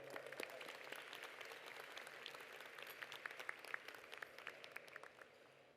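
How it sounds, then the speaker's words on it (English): Applause from a conference audience at a keynote speech, many distinct claps sounding slightly distant and fairly faint, thinning out toward the end. "Let's just give a round of applause for that."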